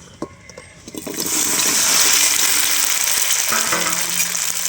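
Jujube fruit with cinnamon dropped into hot oil for a sweet pickle, erupting into a loud, steady hiss of frying after a few soft clinks, sustaining strongly to the end.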